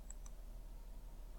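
Two faint, quick computer mouse clicks near the start, sharp and light, then only steady low room hum with no voices.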